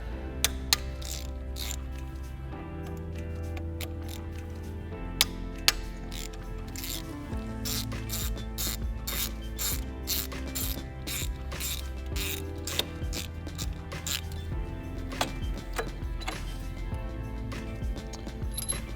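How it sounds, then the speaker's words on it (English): A ratchet clicks steadily while backing out three T30 bolts from the fuel pump on a VW/Audi FSI 2.0T engine, with rapid bursts of pawl ticks separated by short pauses, close and clear. "remove these 3 T30 bolts"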